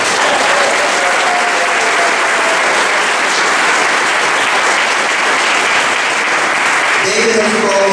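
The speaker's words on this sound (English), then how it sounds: "Give him a round of applause for that." A large audience at an Arizona Republican speaking event breaks into loud, sustained applause that fills the room evenly for several seconds, with some voices rising over it near the end.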